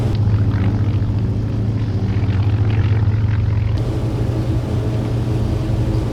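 A Hughes H-1B Transcontinental racer's propeller engine in Flight Simulator X drones steadily with a low, constant hum and rumble, loud and close, shifting slightly in tone partway through as power changes.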